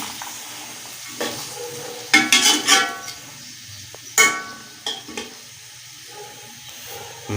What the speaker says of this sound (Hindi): ग्रीन मटर डाल दिए माशाल्लाह। इनको भी थोड़ी देर हम रोस्ट कर लेते हैं।